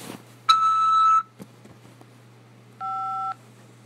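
Keypad tones on a prison collect call: one long beep, a short click, then a second, softer tone a couple of seconds later, all over a low steady hum on the line.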